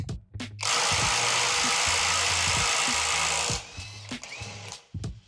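A GISAM 1800Nm impact wrench set to its highest gear hammers against a bolt in one loud, continuous rattling burst of about three seconds, with short clicks and thumps before and after.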